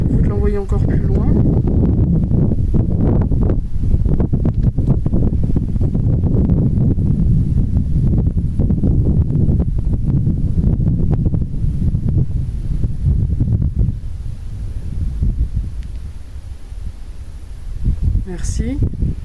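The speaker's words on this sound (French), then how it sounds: "Donc il y a du vent, c'est vrai" Wind blowing outdoors, a loud, steady rumbling buffet that roars across the whole stretch and eases slightly near the end.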